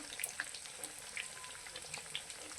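Bread patties shallow-fry in a pan, a soft, faint sizzle with scattered light pops and crackles, ending in a sharper clatter.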